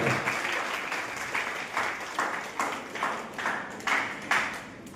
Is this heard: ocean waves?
no